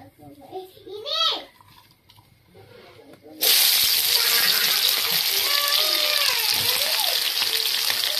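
A voice speaks briefly, then a sudden loud sizzle erupts as onion and garlic hit hot oil and keep frying steadily, close up.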